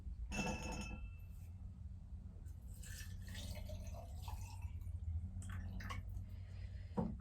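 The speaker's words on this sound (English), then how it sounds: "the next thing I'm going to do is just to pour some cold water just from the tap over to fill my jar" Cold tap water runs and pours into a glass jar for sun tea, a steady gurgling stream with splashes and clinks that keeps going for several seconds at moderate, close level.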